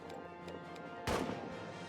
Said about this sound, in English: Let's throw some grenades back in instead